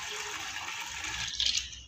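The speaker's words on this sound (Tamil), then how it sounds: "பாலை ஊற்றிக்கலாம்." Milk is poured into a cooking pot on the stove, giving a brief, steady liquid gush that swells slightly toward the end, close by and moderately quiet, with no talk.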